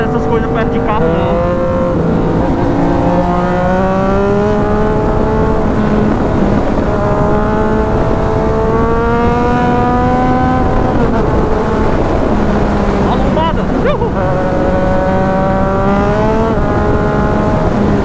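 A Yamaha MT-09 motorcycle engine roars steadily while riding through heavy traffic, its revs rising and falling in loud, close waves, with someone talking over it.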